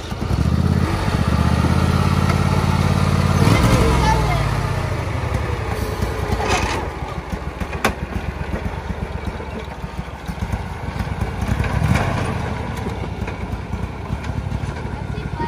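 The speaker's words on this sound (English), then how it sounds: "And you can start mowing because you can see my lines right here, Em." Lawn mower engine running nearby, a loud, steady mechanical drone with a low hum at the start that shifts in pitch, continuing throughout with brief knocks and rattles.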